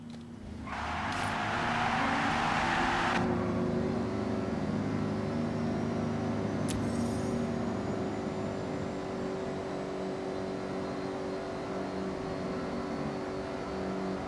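A Toyota Prius Prime engine with a CVT in Forza Horizon rises into a steady, monotonous drone and holds at a constant pitch throughout, with a brief whoosh early on and no talking.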